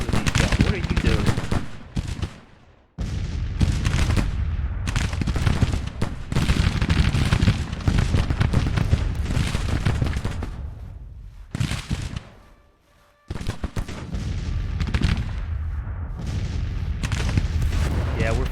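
Civil War-era cannons firing grape shot and canister in a battle video game, a dense, loud barrage of booming reports and crackling gunfire that continues almost unbroken, with brief lulls.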